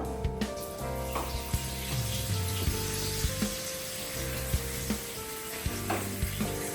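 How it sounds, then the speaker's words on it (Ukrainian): Pork fat sizzles and crackles steadily in a hot frying pan, with intermittent clinks and scrapes of a utensil stirring, close by and without talk. "Так шкварчить."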